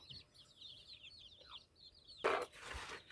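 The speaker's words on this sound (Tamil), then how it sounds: "இங்கே ஒரு கோழி பாருங்கள் மருதாணி செடிட்டு படுத்துருக்குது" A chicken clucks softly in quick repeated calls, followed by a louder burst of rustling noise.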